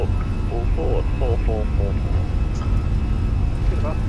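Simulated Fenix A320 engines spool up on the takeoff roll in Microsoft Flight Simulator, a steady loud roar with a speech-like voice faintly present underneath.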